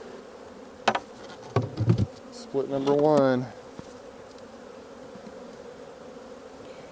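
Honeybees buzz steadily in an open hive during early-season splitting, a soft continuous drone running under brief speech from a nearby beekeeper.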